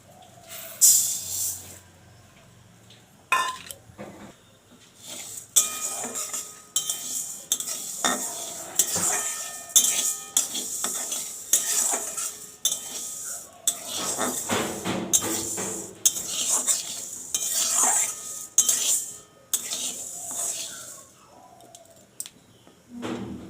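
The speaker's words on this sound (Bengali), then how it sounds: "ডালটাকে ভেজে নেব।" A spatula scrapes and clacks repeatedly against a pan while lentils sizzle as they fry underneath, in uneven bursts of stirring close by.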